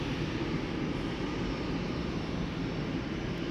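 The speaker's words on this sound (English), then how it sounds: "Airbus A319" An easyJet Airbus A319 jet at Schiphol heading out toward Bristol, its engines a steady, fairly distant broadband rumble throughout, with no voices.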